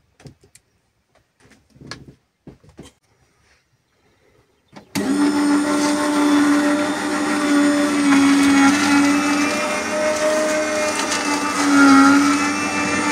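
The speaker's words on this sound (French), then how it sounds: "je vais utiliser mon extracteur" A home juice extractor starts up after a few scattered clicks and handling knocks, then runs with a loud steady whirring motor hum, pitch wavering slightly as produce is pressed.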